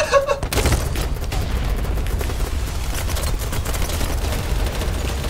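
Sustained light machine gun fire in the video game Tunnel Rat Warfare, loud and close, a dense continuous rattle of rapid shots with booming low end running for several seconds without a break.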